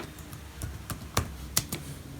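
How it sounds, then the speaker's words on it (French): Quick keystrokes on a computer keyboard, a handful of separate clicks at an uneven pace, close and clear with no talking. "Vous allez taper simplement Samsung."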